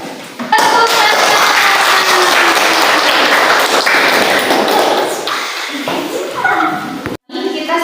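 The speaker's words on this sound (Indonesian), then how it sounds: "Tepuk tangan." A classroom group of students applauds after the fourth group's presentation during an academic supervision coaching session, loud close clapping that holds steady, thins out near the end, and breaks briefly before resuming.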